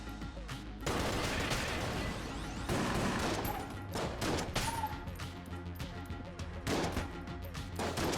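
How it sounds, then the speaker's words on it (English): Rapid bursts of gunfire from the video game Enter the Gungeon, loud dense volleys with short gaps and clattering impacts, filling the whole stretch without talk. "I'm gonna actually use my guns."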